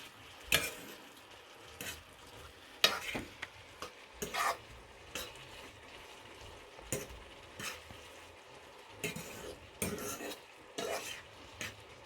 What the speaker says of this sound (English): Just going to mix that in first.